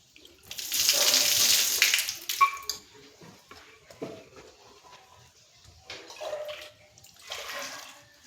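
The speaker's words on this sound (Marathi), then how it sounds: "तर हे पहा, हे धुवून घेणार आहे आपण स्वच्छ" Water splashes and sloshes close by as chickpeas and spinach are washed, starting with a loud rush of running water, then a few softer swishes and pours with quiet gaps between.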